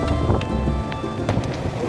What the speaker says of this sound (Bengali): রোদ বৃষ্টি সবটাই হচ্ছে